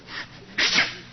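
One abrupt sneeze, loud and close, follows a softer breathy intake, then quiet returns.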